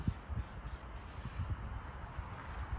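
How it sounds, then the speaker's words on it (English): Short bursts of aerosol penetrating oil spray hiss in a few quick pulses onto a 2005 Freightliner's engine parts, then a steadier hiss continues close by, with faint clanks underneath. "So I'm just gonna spray down a little bit."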